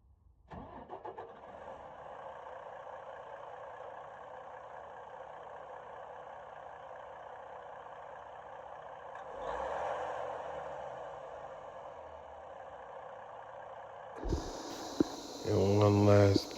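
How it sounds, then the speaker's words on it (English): A 2013 Freightliner Cascadia truck idles steadily after starting, its engine a continuous low drone that swells briefly midway, then louder clattering and handling noises close by toward the end. "go on the truck and start it up. The truck should build air."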